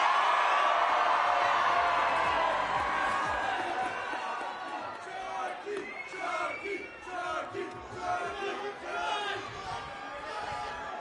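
A large crowd at a rally in support of Israel in Washington, D.C. roars and cheers, a dense, loud wash of voices and whoops that dips slightly and then swells again, with speech mixed in.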